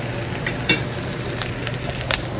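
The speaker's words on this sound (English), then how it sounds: "So I'm stirring these onions constantly for 5 minutes" Onions frying and being stirred constantly in a pan for a ramen dish, a close steady sizzle with occasional sharp clinks and scrapes of the utensil, no voices.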